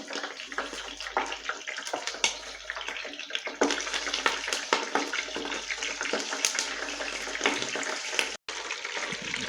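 Chicken pieces dropped into hot ghee for biryani, giving a loud, steady sizzle and crackle that fills the whole stretch with one short break near the end.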